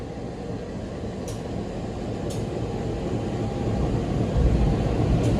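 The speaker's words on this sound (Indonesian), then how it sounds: "merupakan kereta api Kamandaka dari stasiun Semarang Tawang, tujuan akhir stasiun Purwokerto" Kamandaka passenger train rolling through Pekalongan station, a steady low rumble of wheels and carriages that swells slightly toward the end, with a couple of faint high squeals.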